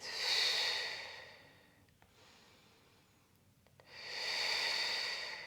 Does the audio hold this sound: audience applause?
no